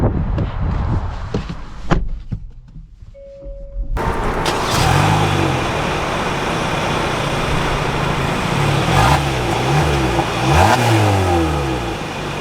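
A 2025 Hyundai Tucson Limited starts quietly, then its engine pulls hard with a loud, rising rev and gear-shift dips, heard from inside while accelerating.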